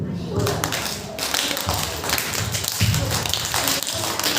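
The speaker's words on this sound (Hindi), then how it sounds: "आगे ताली और पीछे ताली" A yoga class claps hands in front and behind the body during an exercise, producing repeated sharp claps at a steady rhythm mixed with voices and thuds.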